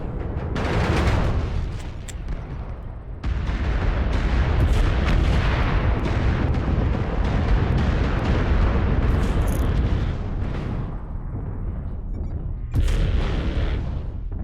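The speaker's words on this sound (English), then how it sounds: "Warning, incoming missile." Heavy, rumbling missile blasts and booming explosions from an online shooter game's battle fill the scene, loud and nearly continuous, with sharp bursts near the start and a fresh impact toward the end.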